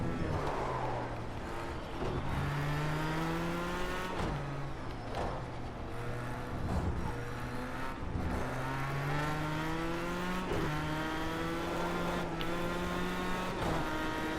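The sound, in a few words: race car engine revving and downshifting in a video game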